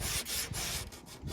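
Sandpaper rubbed by hand along a plywood edge, rapid back-and-forth rasping strokes, close and fairly loud, with no talk.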